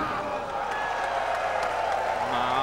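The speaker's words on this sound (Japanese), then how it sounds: "場内から大きなどよめきと歓声が生まれています" A wrestling arena crowd in Fukui at a Davey Boy Smith vs Samson Fuyuki match gives a loud, sustained roar of murmuring and cheering, with a commentator talking over it.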